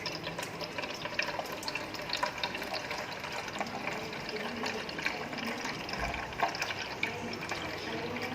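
Water discharges steadily from the outlet of a soil permeability test apparatus into a measuring cylinder, a continuous trickling splash that stays even throughout with no voices.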